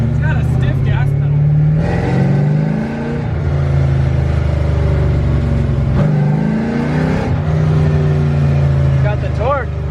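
LSE 36 car engine accelerating from a stiff gas pedal, a loud close drone rising and falling in pitch through several pulls, with people talking over it.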